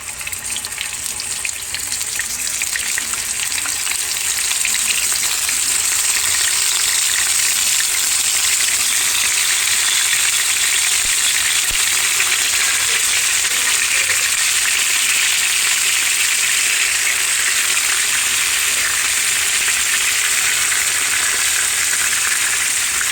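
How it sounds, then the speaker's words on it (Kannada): Chicken pieces shallow-fry in hot oil over a high flame, giving a loud, steady, close sizzle that runs unbroken throughout with no one speaking. "ಮೀನು ಫ್ರೈ ಮಾಡ್ತೇವೆ ನೋಡಿ, ಆ ಥರ ಶಾಲು ಫ್ರೈ ಮಾಡಬೇಕು ಚಿಕನನ್ನು."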